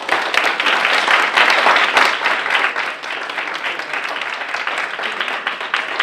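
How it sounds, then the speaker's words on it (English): An audience claps for an alumni panel of storytellers at an E&TIM event, a thick burst of applause that swells early then settles into steadier, slightly softer clapping. "we'll give them a round of applause."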